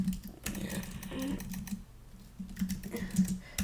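Rapid typing on a computer keyboard, close and clear, in uneven bursts of clacking keys with brief pauses between runs.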